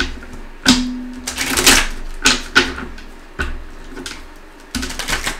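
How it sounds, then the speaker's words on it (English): Several quick bursts of riffling and flicking cards, a few sharp crisp flurries spread across the clip with short pauses between. "Just want to shuffle and make sure it's shuffled"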